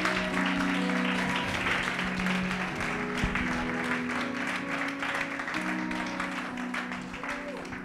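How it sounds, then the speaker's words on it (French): A church congregation at a French-language worship service claps and cheers for Jesus, steady sustained applause with crowd noise filling the hall throughout, over a sustained musical tone, gradually easing toward the end. "Est-ce qu'on peut acclamer Jésus?"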